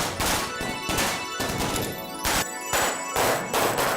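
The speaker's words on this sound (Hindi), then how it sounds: "चल हम चल के असली के पटाखे जलाते हैं।" Diwali firecrackers being set off, a dense loud run of crackling bursts in rapid succession with brief gaps between volleys.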